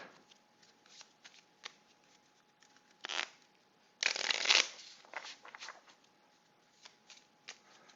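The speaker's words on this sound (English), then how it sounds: "I swear I shuffled these damn things. Obviously to get them more shuffled." Playing cards for a World War II tactical squad combat card game are shuffled, with soft scattered flicks building into a loud riffling burst midway, then lighter shuffling taps, close and with no talk.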